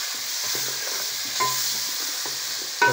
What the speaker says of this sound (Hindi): कद्दू को भी हल्का हल्का भून लेना।